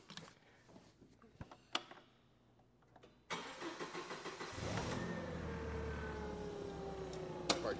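Yale propane forklift, a 6000 lb LP model, cranks and fires up, then settles into a steady, loud running drone after a few seconds of quieter clicks and handling noises.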